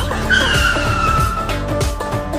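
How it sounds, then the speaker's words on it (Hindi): A cartoon ice cream vehicle skids loudly to a stop with a drawn-out tire squeal over engine rumble, close and continuous for a couple of seconds, with no voices. "आइसक्रीम वाला गाड़ी रुक गया"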